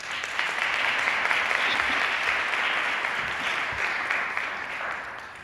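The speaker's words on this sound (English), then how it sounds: "So please join me in applauding all of them." An audience at a Black History Month historical society event applauds the volunteers with sustained, even clapping that holds steady and tapers slightly at the end, with no speech over it.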